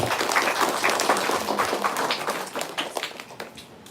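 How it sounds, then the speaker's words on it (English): Audience at an annual company workshop applauding, a dense burst of clapping that thins and fades toward the end. "Please give them a round of applause."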